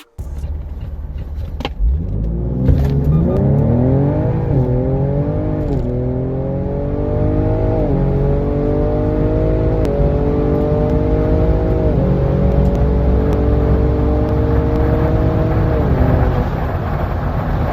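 A drag race car engine revs hard and accelerates down the strip, its pitch climbing through repeated gear shifts, loud and close throughout with no talking.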